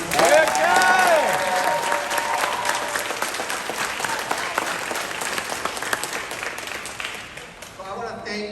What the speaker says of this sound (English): can we have a huge round of applause for all the artists who made that incredible art in the back of the stage